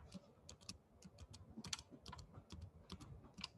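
Keys clack on a computer keyboard in quick, uneven bursts, close and fairly quiet, with short pauses between runs of keystrokes while someone writes code.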